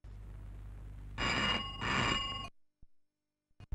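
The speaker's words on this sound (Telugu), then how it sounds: "మీకే ఫోన్" A telephone bell rings twice in a Telugu film scene, two loud, close bursts followed by silence and a few faint clicks.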